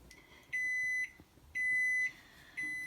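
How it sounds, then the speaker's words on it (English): A kitchen timer sounds three steady electronic beeps, each about half a second long, at an even rhythm against a quiet room. "it's been 15 minutes and we're going to turn off the timer"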